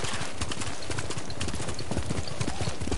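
Horse hooves pound in a steady galloping rhythm while a rider travels at speed in the video game Ghost of Tsushima, heard as a continuous clip-clop over game ambience.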